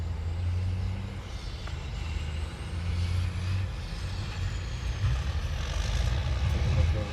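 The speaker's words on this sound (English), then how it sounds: "now you got some dump trucks too" Dump trucks rumble along an airport access road, a low, steady engine drone at moderate distance that rises and falls as the vehicles pass, with faint hiss and background noise.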